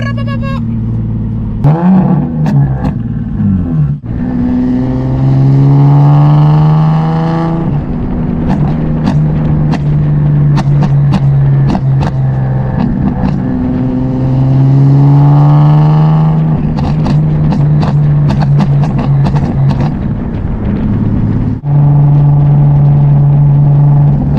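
A turbocharged Nissan 370Z on a new tune revs hard in repeated bursts, the engine climbing and falling in loud, close pulls with sharp crackling pops between them.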